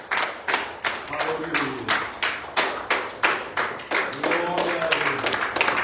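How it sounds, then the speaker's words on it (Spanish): A church congregation claps together in a steady rhythmic beat, loud and close, while voices call out praise over the clapping throughout. "Vamos a dar un aplauso a Dios."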